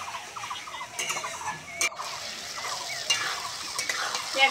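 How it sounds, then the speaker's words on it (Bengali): A spice paste masala for a fish and potato curry fries in oil, sputtering and crackling while a spatula scrapes and stirs it in short strokes; near and moderately loud, with no voices. "এরকম ভাবে ভালো করে মশলাটা কষে নেব।"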